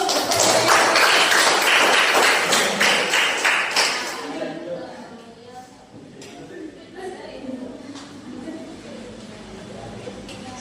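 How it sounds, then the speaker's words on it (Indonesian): A small group in a classroom claps hands together for about four seconds, a lively cluster of claps that then stops, followed by quieter room sounds and talking. "Ya, tepuk tangan dulu."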